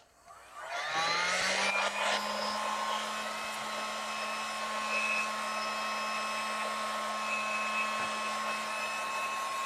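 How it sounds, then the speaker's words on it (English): A heat gun switched on and set to low, blowing warm air over gauze on Yupo paper for watercolor; the fan whirs up within a second into a steady, loud whine and hum that holds without talk. "I'm going to turn my heat gun down on low just to get some warm air moving around"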